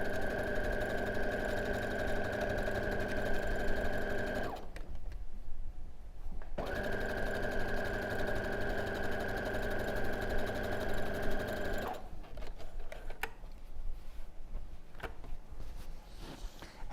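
A sewing machine runs quilt seams in loud close bursts of steady humming whir, stopping twice for a few seconds in between, with no talk.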